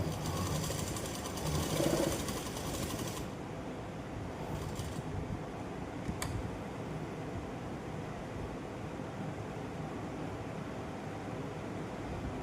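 A sewing machine stitches a lehenga, a fast dense mechanical whir for the first few seconds that then stops, leaving a quieter hiss with a couple of faint clicks.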